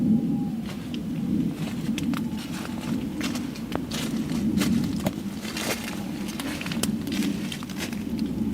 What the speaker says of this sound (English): she was awakened by loud footsteps right next to her tent